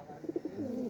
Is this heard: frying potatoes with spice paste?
no